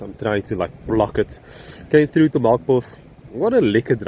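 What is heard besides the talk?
No everyday noises stand out.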